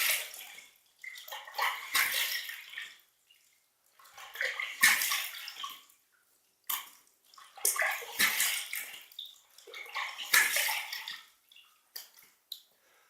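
Water runs and splashes in a sink in four bursts of rinsing after a shave, each lasting about two seconds and separated by short quiet gaps, fairly close and loud, with no one speaking.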